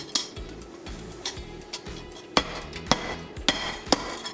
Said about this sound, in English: Of course, you know what all this hammering means.